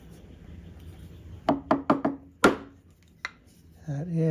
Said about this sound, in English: I will do a perpendicular chop on this to establish that